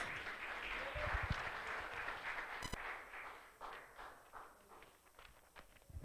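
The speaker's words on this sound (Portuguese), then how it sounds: "Salvo de palmas bem bonita, Senhor, por essas ovelhas." A church congregation claps together in a dense wash of applause that is fairly soft and distant, swelling briefly and then tapering off.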